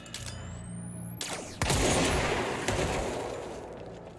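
A new gun fires in the video game Control: a sharp report sounds near the start, then a heavier burst of gunfire follows, with a long roaring decay and a smaller shot later.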